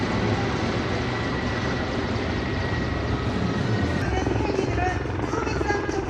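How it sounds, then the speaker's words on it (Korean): An Erickson S-64E heavy firefighting helicopter, originally the Sikorsky S-64, drones with a steady, loud rotor and engine roar throughout, holding constant as if hovering or passing nearby. "산불 진화 헬기 중에서 가장 큰 대형 기종인 미국 에릭슨사의 S-64E 기종입니다"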